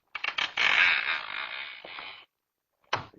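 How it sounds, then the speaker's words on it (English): A partly open door creaks as a radio drama effect, one long strained groan swelling after a couple of short ticks, then silence and a brief final creak. "That door's already partially open."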